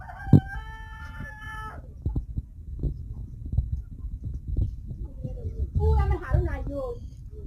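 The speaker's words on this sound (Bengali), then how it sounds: "তো এগুলা সিল্কি মুরগি।" Silkie chickens cluck up close, with a clear run of calls at the start and more clucking near the end, over scattered farmyard noise.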